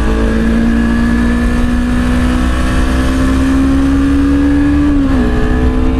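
Honda CBR250RR sport motorcycle engine heard while riding, a loud, steady high-pitched drone that climbs slowly and then drops sharply near the end, with wind rushing beneath it.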